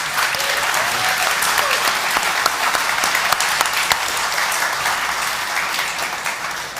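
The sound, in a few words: audience applause for Helium Mobile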